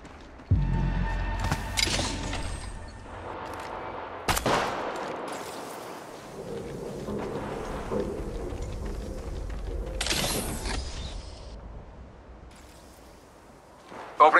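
Gunfire in the mobile shooter Apex Legends Mobile, with loud bursts and sharp shots near the start and around the four- and ten-second marks over a steady game soundscape.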